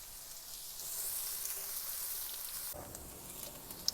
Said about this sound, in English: in a large saucepan, I had melted some butter, and right on top of that, we're going to cook our onions